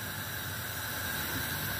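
A steady, even hiss with a low rumble underneath from a pot of water with dumplings in it heating toward a boil, continuous and unchanging throughout.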